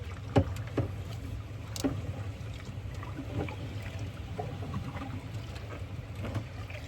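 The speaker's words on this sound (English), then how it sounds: "I just love the sound of the water" Kayak paddle strokes through water among vegetation, with soft intermittent splashes and drips close by over steady low wind rumble, no talking.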